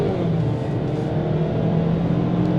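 A 2022 Ford Maverick pickup's 4-cylinder engine accelerates from inside the cab, producing a steady, moderately loud droning whir with road noise beneath and no voices.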